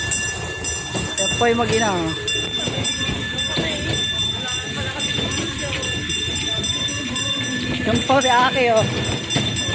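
An amusement park ride train at Carron Dreampark in San Isidro, Nueva Ecija rumbles along steadily with a rattling clatter and faint squeals, under continuous nearby talking in Filipino.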